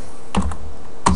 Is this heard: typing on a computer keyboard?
yes